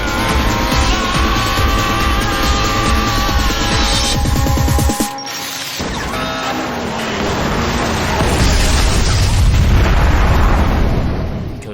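A bomb blows up during a race in an animated racing show, a loud, sustained booming roar with crackling debris and engine noise, followed by a deep rumbling aftermath.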